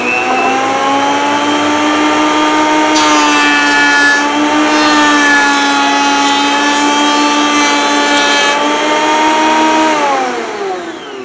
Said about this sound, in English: I'm gonna take care of the saw marks and burr edges on my jointer right here.